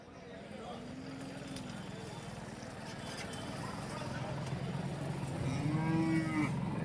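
Cattle at Karimangalam calf market in Dharmapuri district moo in two drawn-out calls, one early and one near the end, over steady market crowd chatter and background voices.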